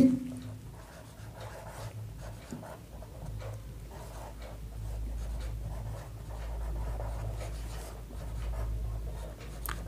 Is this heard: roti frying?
no